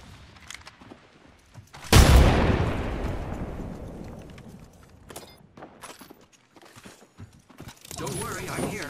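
A frag grenade blows up in the Apex Legends shooter with one sudden loud blast, followed by a long rumbling decay. Clicks and mechanical game effects come before the blast, and further game sounds come after it.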